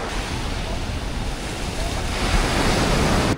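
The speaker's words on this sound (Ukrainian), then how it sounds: "А взагалі тут трохи така хвиля на морі." Sea waves wash onto a beach in Vietnam on a slightly choppy sea, a steady near roar of surf with wind noise on the microphone that swells louder toward the end.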